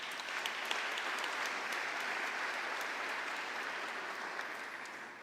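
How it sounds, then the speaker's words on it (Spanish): Audience applause at the opening ceremony of the Congreso Futuro 2026 in Chile, a dense, steady wash of many hands clapping that holds evenly and fades slightly at the end, with no voices over it. "un aplauso para ellos."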